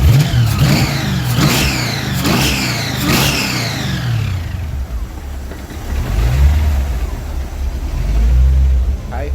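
A blown HEMI engine in a DeSoto car revs loudly in several sharp rising bursts, then settles to a rough, rumbling idle.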